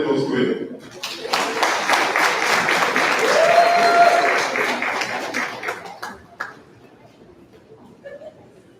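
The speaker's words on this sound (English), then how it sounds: "Keep the applause going." An audience at the official opening of a community centre claps warmly for several seconds, swelling to a full round of applause before thinning out into scattered claps, with faint voices and a brief tone underneath.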